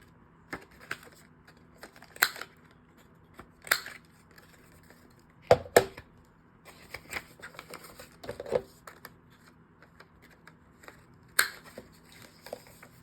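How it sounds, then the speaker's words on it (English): A corner rounder punch clips the corners of a handmade slimline junk-journal notebook, giving sharp isolated snaps spaced a few seconds apart, with a quick double click in the middle and soft rustling between cuts. "We can round the corners if you want."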